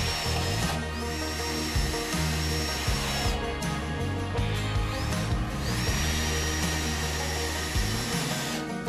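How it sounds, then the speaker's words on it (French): A power screwdriver drives screws into the base of a planter tray, giving several whirring bursts that rise and fall between short pauses. "Mettez la base du bac en place, vissez dans les trous prévus à cet effet sur la face inférieure."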